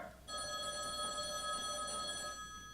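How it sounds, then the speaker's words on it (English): Telephone bell ringing in a single sustained electronic trill that starts abruptly and holds steady for about two seconds before cutting off, heard alone and fairly close. "Your telephone's ringing."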